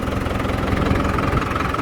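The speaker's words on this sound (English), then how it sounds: "Hang on, this old tractor, give it a second." An old New Holland TS110 tractor engine runs steadily at a loud, close idle, with a dense, rough rumble and a slight knocking throb and no voices.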